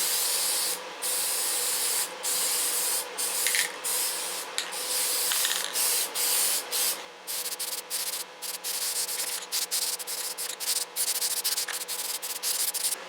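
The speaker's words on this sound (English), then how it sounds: "we're going to be spraying some color on this baby" Jeep Wrangler TJ parts get coated with Colorbond vinyl spray paint in Chrysler Agate: a loud, close aerosol hiss in repeated bursts, long pulls at first, then quicker short sprays with brief gaps between them, no talking.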